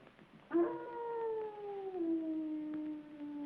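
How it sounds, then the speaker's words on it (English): A dog howls in one long, sustained wail with a slowly falling pitch, starting abruptly and carrying on steadily, loud and close, in a 1971 film scene. "He howls every time we lose one. Your dog does?"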